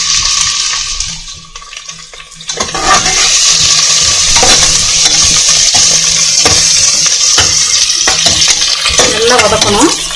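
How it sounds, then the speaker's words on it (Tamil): Chopped large onions sautéing in a pan for Tamil Nadu-style mutton biryani, a steady loud sizzle with frequent stirring scrapes and clinks throughout, briefly quieter at the start. "நல்லா வதக்கணும்."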